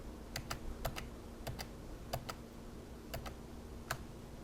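Computer keyboard keys pressed in quick pairs, about seven crisp double clicks at irregular intervals, faint and close with no talking, as keystrokes are used to undo in After Effects.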